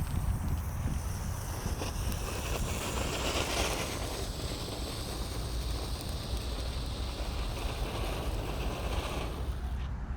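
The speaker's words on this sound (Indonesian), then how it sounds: "kita nyalakan dulu lovely fountain, air mancur glutut yang paling kecil ini guys" A small fountain firework, the lovely fountain type, burning steadily outdoors as a continuous loud hissing, crackling spray that stays even for about ten seconds with no one speaking.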